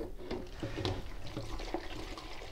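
Shampoo gurgles and bubbles as it drains through a funnel into a bottle, a soft continuous liquid trickle with small glugging pops, close and fairly quiet.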